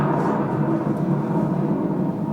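Thunder effect in a stage production of Macbeth: a steady, dense low rumble holding at even loudness throughout with no voices over it.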